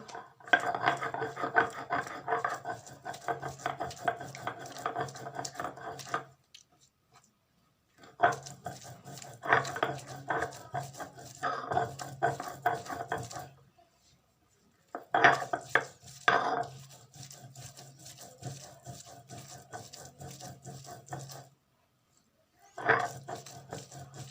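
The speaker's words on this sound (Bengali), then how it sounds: "আমি সর্ষে ফুলটাকে পাটাতে নিয়ে নেব এবার আমি এটাকে ভালো করে বেটে নেব" Mustard flowers being ground on a traditional flat grinding stone, rhythmic gritty rubbing and scraping strokes in several bursts separated by short pauses, close and fairly loud, no voices.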